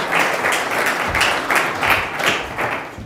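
A conference audience claps at a tech and climate event, a few seconds of dense, moderately loud applause with irregular hand claps close by and no talking.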